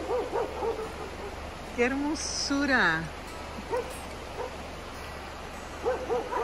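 Dogs bark a few times in short, scattered bursts at a moderate distance in Rayones, Nuevo León, while a person speaks briefly in between.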